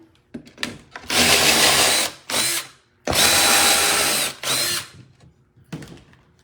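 A power drill turning a step bit through material from the back side, in several loud whirring bursts separated by short pauses, with clicks and handling noises between them and no voices.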